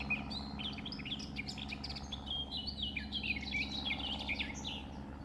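A small songbird trills and chirps in quick bright bursts, fairly faint and steady over a low hum of background noise, with no one talking.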